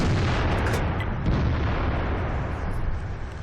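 Heavy booming gunfire from tanks in World of Tanks, a loud, dense rumble of shots and blasts that runs unbroken through the whole stretch with no pauses.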